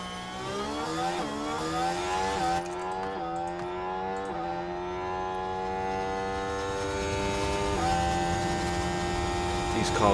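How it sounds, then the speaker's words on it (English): Formula 1 race cars in F1 Manager 24 scream past with strong, steady engine whine, pitch climbing through gear shifts and dipping at intervals, loud and continuous for the whole stretch. "These cars really do sound impressive, even when we're slow as hell."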